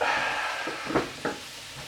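Steady sizzling of mushrooms frying in a pan, with a couple of brief scraping stirs partway through; no talking.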